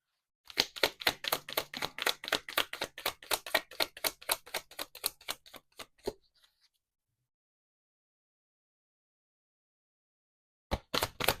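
A rapid run of crisp riffling taps from shuffling a stiff oracle card deck, steady and close, continuing for about six seconds, then silence before a brief burst of riffling resumes at the end.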